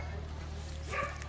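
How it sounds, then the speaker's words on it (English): Dogs yelp and bark briefly in the background near the end, faint and somewhat distant, over a steady outdoor hum with some voice present. "Sorry about the dogs in the background."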